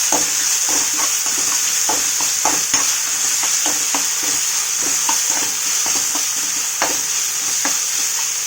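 Ingredients fry hard in a pan, a loud continuous sizzle with frequent rhythmic scrapes of a spatula stirring throughout, heard up close with no talking.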